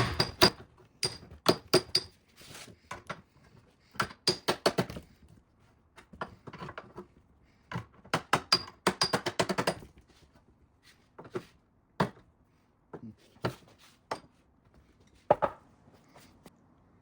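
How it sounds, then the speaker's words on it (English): Sharp metallic hammer strikes on the edge of a vintage GM car's fender skirt come in irregular clusters of quick taps separated by short pauses, close and crisp. "we want to hammer with a bit of a curve to it, not a flat face hammer"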